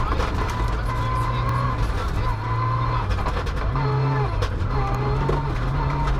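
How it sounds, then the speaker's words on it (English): A big Mitsubishi rally car on a gravel stage at the Kisumu rally in Kenya, its engine droning and shifting pitch with revs, mixed with crowd noise and voices around it. "Here he nudges off Karan Patel with his big Mitsubishi out of the way."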